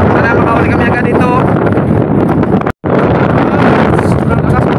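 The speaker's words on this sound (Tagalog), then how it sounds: "Lakas ng hangin." Strong, blustery storm wind on a fishing boat at sea buffets the microphone in a loud, continuous roar, with a brief dropout midway.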